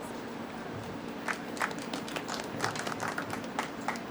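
At a solar geoengineering town hall during NYC Climate Week, audience members clap in loose, scattered bursts. The claps are quiet and uneven, rising slightly toward the middle over a faint room hum.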